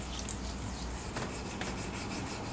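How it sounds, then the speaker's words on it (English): Fingertips rub oil into the wooden body of a vintage 1960s Hagstrom guitar, a soft, close, continuous friction hiss at low level with no talking. "I'm just gonna rub that in with my fingers."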